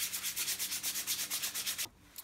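Rhythmic sanding of an Estwing hatchet handle with sandpaper from 100 to 320 grit, a quick steady scratching back-and-forth stroke repeated about a dozen times, close and alone, then it stops.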